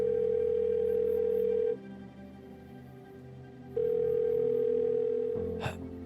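A phone call rings with two long, steady electronic ringback tones separated by a pause. A click follows near the end.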